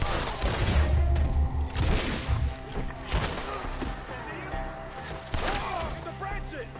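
Rapid bursts of gunfire during a shootout in Red Dead Redemption 2, dense overlapping shots and booms, loud and continuous, mixed with shouting voices over the fight.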